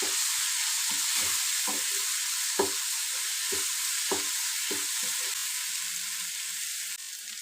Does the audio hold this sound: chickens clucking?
no